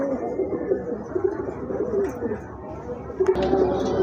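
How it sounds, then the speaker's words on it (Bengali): Desi Bombay pigeons coo softly in a low, murmuring stream, a pair held close by with steady rolling calls and a brief clatter near the end. "আরেক জোড়া কবুতর, এটা হচ্ছে আপনার অরিজিনাল দেশি বোম্বাই কবুতর"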